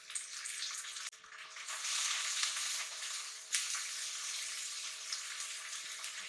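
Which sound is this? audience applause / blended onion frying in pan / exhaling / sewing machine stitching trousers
blended onion frying in pan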